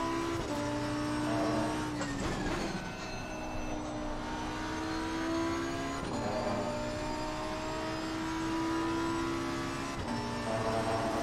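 A GT3 race car's engine in Assetto Corsa Competizione revs continuously and loudly, rising through gears with sweeping pitch climbs and brief dips at shifts, with no talk over it.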